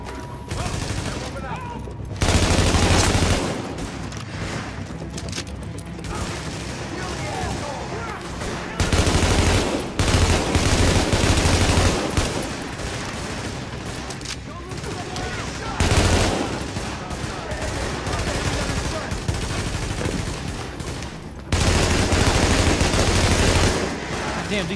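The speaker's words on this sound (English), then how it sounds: "Damn, these guns are borderline uncontrollable." Heavy automatic gunfire in The Division, with a barrel overheating to red hot, pours out in sustained, loud bursts and several sharper, louder volleys. Faint voice sounds may sit under it.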